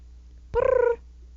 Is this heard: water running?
no